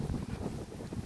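Strong wind blows outdoors among pine trees and villas near the Discovery Bay pier in Hong Kong, buffeting the microphone in a loud, continuous low rumble with no talking.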